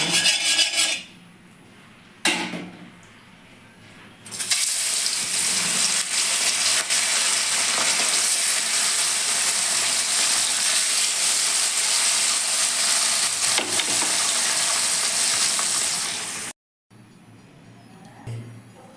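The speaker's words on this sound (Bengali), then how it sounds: "মাছটা ভেজে নেবো আগে তেলটা গরম হয়ে গেছে" Pabda fish fry in hot oil seasoned with turmeric. A loud, continuous broadband sizzle starts a few seconds in and holds steady for about twelve seconds before cutting off abruptly. Quieter kitchen noise comes before and after it.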